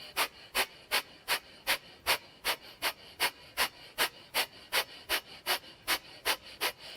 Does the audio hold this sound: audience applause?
no